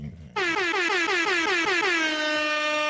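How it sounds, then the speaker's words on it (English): A loud air horn blares after a short pause, pulsing rapidly at first and then holding a single sustained blast to the end. "You can do your air horn if you want to"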